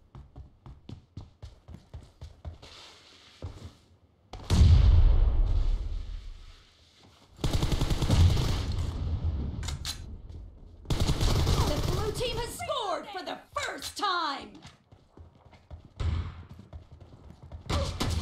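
Shotgun blasts and other gunfire from a team-match round of a shooter video game come in loud, scattered bursts separated by quieter stretches, with someone talking excitedly over the action.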